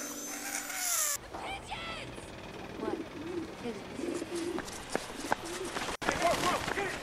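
In a scene from the horror movie Final Destination 2, pigeons coo and flutter at close range, mixed with mechanical movie sound effects and people talking.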